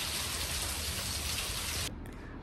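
Heavy rain pours steadily on Bonaire, where the roads are poorly drained and water pools rather than running off; a dense, close hiss drums for most of the moment, then drops off abruptly near the end, leaving quieter dripping.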